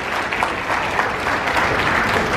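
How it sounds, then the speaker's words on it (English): Loud, continuous applause from an audience at a medical students' counseling session, praising a student volunteer who came up front, with the packed clapping sustained evenly throughout. "I want you to give a applause for him,"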